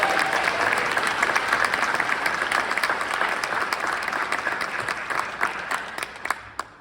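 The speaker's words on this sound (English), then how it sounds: "I want to give another round of applause for those kids and students in Boston." Sustained applause from a ceremony audience at a USPS stamp dedication in Chicago, for kids and students in Boston: dense, steady clapping that slowly thins and fades out near the end.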